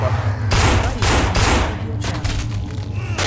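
Gunfire from shooting zombies in the game No More Room in Hell: loud bursts of rapid shots in clusters, with brief gaps between volleys.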